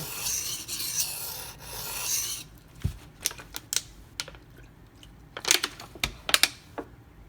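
Alternating sharpening passes on a Zero Tolerance 0393 blade of CPM-20CV steel: a continuous gritty rasp at first, then a pause and a series of short, sharp scraping strokes and taps, close up with no talk.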